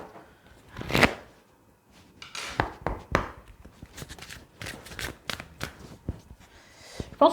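Oracle cards shuffled by hand during a card reading, a series of crisp riffling and slapping bursts with short pauses between them, close and clear, with no voice over them.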